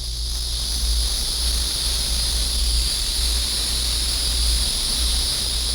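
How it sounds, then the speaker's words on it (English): Dense, steady chorus of Texas insects chirping at night near a base where a guard keeps watch, a continuous shrill buzz layered over a low rumble with no voices. "those zillions of strange Texas bugs you hear at night when you're on security guard"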